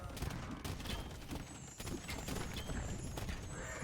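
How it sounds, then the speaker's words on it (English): Rapid bursts of video game hand cannon gunfire crackle over a busy battle din, sharp cracks scattered densely throughout at moderate volume. "Samurai get shredded by the hand cannons."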